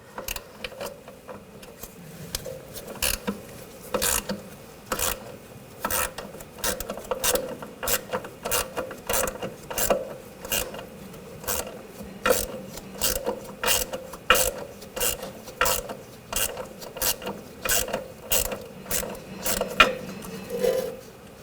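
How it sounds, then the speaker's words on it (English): A ratchet with a 10mm socket turns a nut off the rear suspension link of a 2000–2006 BMW X5, giving a fast, steady run of crisp clicking pawl strokes in short bursts, close and without talk. "Use a 9mm wrench on the back side, 10mm socket. Take this nut off."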